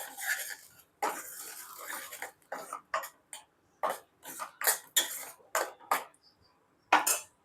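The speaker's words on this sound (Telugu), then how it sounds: "మూత పెట్టుకుందాం" A lid is set onto a cooking pot during preparation of an egg and taro curry, giving a series of short, sharp clinks and clatters with quiet gaps between them, close by and without speech.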